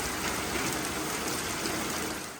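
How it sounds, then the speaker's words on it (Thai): A forest stream swollen by overnight rain rushes steadily, a loud, continuous broadband wash of flowing water with no voices over it. "จะได้ยินเสียงน้ำบ่ทุกคน"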